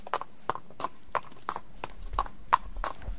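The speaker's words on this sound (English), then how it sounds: "Sounds like a little pony going up the old British walkway." A horse trotting sample plays on hard ground, giving about eight crisp, evenly spaced hoof clops with no voices.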